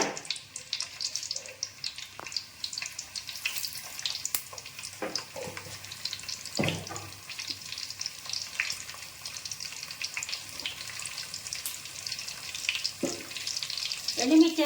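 Spices for a tempering sizzle and crackle in hot oil in a pan, a faint steady frying hiss with occasional pops and clinks throughout.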